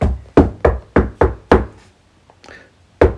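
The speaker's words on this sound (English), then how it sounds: "There's another knock at the door." Sharp knocks on a door for a children's story: five quick raps in a row, then a single knock after a pause, loud and close with no talking.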